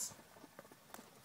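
Faint clip-clop of horses' hooves as a man drives a team along, a handful of light, irregular hoof strikes spaced through a short, quiet stretch.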